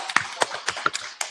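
A few people clapping hands in a small room for a guest, scattered claps landing at an uneven rhythm, fairly close and light, with no broad crowd behind them.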